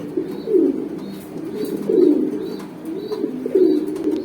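A pigeon coos in a close, soft, throaty rhythm, three rolling calls a little over a second apart over quiet room noise, with no voices.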